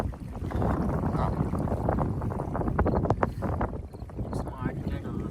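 Strong wind buffets the microphone outdoors in California, a continuous rough rumble that swells and eases, with people talking faintly underneath.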